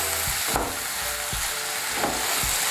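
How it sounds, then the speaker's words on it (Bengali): Radish curry sizzling and frying in a pan on raised heat, a steady hiss of hot oil broken by a few soft scraping stirs of the spoon, close and continuous. "এখন আঁচটা বাড়িয়ে দেব, বাড়িয়ে দিয়ে আর একটু নাড়াচাড়া করে নেব।"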